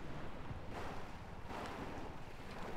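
An airplane flies in Arma 3, heard as a continuous windy, rushing drone with slight swells, fairly faint and steady throughout, with no speech.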